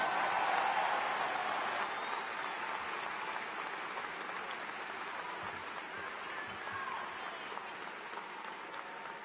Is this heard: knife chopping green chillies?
no